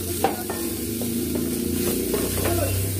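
Unpeeled garlic cloves fry in a pan, a steady close sizzle running throughout with scattered scraping stir strokes, and no voices.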